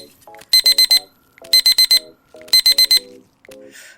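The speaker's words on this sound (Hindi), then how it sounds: "फिर से अलार्म ने तंग किया" An alarm clock rings in three loud bursts of four rapid beeps each, a short gap between bursts, with quieter rustling and small sounds between them and no voices.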